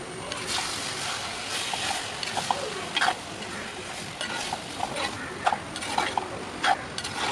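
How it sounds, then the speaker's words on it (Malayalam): Lemon and onion cooking in a pan for a Kerala curry-lemon pickle, a low steady sizzle with occasional spoon clinks and scrapes against the pan, close and moderately quiet. "നാരങ്ങയും ഉള്ളിയൊക്കെ കൂടി നന്നായിട്ടൊന്ന് മിക്സ് ചെയ്തതിന് ശേഷം മൂടി വെച്ച് ഒരു 3 to 4 minute low to medium ഫ്ലെയിമിൽ ഒന്ന് വേവിച്ചെടുക്കുക"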